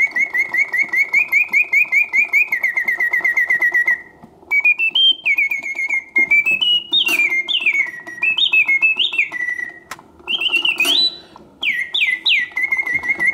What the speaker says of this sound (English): So both birds sing to a bird song.